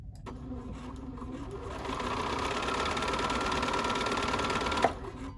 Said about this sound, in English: It just started sewing without those stitches in place.